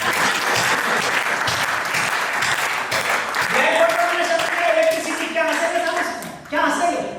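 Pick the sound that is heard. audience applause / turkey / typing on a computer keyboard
audience applause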